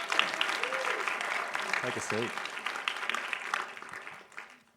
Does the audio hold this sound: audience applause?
yes